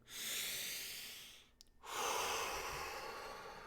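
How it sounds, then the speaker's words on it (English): A slow, deep breath drawn in and then released, two broad airy swells split by a brief pause, fairly close and alone with no talk. "let's again take a deep breath in, deep breath out"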